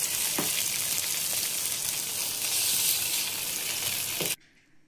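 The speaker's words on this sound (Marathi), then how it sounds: "आता आमी ग्रीन केलो न्हू आतड्यो फ्राय करताय." Green-seasoned intestines fry in a pan in a home kitchen, giving a continuous loud hiss and crackle with a couple of soft stirring knocks, ending abruptly as the sizzle cuts off.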